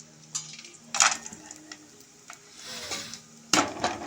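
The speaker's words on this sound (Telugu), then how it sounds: "నెయ్యిలో మనం డ్రై ఫ్రూట్స్ అనేవి మనం ఫస్ట్ ఫ్రై చేసేసుకుందాం." Dry fruits frying in ghee in a pan, a soft sizzle under scattered spoon scrapes and two louder clanks against the metal, no talking.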